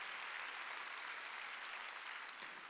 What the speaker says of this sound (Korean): 박수 치라고요.